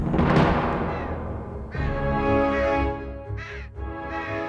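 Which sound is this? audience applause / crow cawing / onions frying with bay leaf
crow cawing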